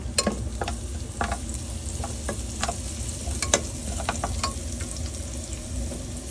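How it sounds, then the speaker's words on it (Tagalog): Garlic fries in a pan for Japanese-style sopas, a soft continuous sizzle with scattered clicks and scrapes from stirring, close and steady, no talking. "Magigisa ako ng bawang."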